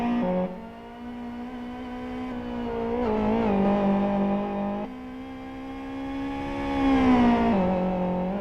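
Sim racing car engine in a video game, a buzzing tone dropping as it brakes for the swimming pool section, then climbing again on acceleration.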